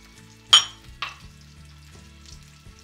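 Onion cooking in a pan with brandy and pineapple juice, a soft steady simmer with two sharp clinks of a utensil against the pan early on, fairly quiet and close.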